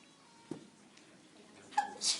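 A single soft sneeze, followed by a faint breathy sound in a quiet room.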